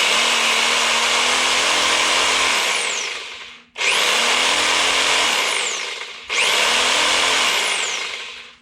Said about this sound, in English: And then we've got the Porter cable Sawzall.